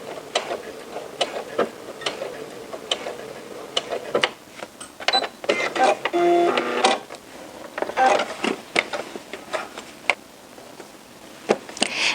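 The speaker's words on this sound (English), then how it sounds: "And then back stitch." A sewing machine runs in short busy bursts while back stitching a seam on cropped pants, with mechanical ticks, whirring needle strokes and a clicking rhythm up close.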